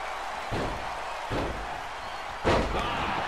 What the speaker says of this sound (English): Slamming head into the canvas